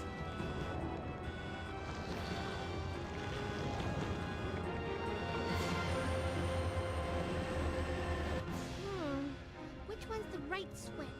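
A train in the Resident Evil 2 video game rumbles and clatters loudly and continuously, with metallic screeching and grinding rising toward the end.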